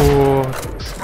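Valorant gunfire comes as a short cluster of sharp shots near the end of a brief moment, following a voice, over steady in-game background noise.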